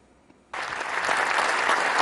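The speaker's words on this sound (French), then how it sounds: "Un tonnerre d'applaudissements en réaction à ce message sans équivoque adressé aux banques et au secteur privé." Thunderous applause erupts suddenly from a large crowd at a speech, after a brief quiet moment, then holds as a dense, loud, sustained wash of clapping that swells slightly toward the end.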